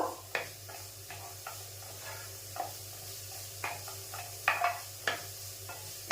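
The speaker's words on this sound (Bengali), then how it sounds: "হাফ চামচি রসুন বাটা আর হাফ চামচি আদা বাটা আমি দিয়ে দিলাম। বেশ খানিকক্ষণ নাড়া দেব।" Garlic and ginger paste fries in a pan as a spoon stirs it. A steady faint sizzle runs under sharp scraping and tapping strokes that come every second or so, close and without voices.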